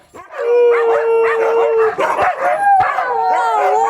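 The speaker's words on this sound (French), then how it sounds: "Une meute de huskies de Sibérie pure race que vous aurez l'occasion de côtoyer de près." A pack of purebred Siberian huskies howls together in the Swiss Alps, several overlapping long wavering howls with yips breaking in, close and loud for about four seconds.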